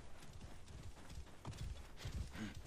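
Horse hooves clip-clop in the Assassin's Creed Origins video game, a steady run of hoofbeats that grows a little louder toward the end, with no talking.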